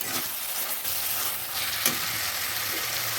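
Boiled mixed vegetables sizzle steadily as they are stirred in hot spiced oil in a pan for a restaurant-style dish, a continuous close frying hiss broken by a few soft stirring scrapes.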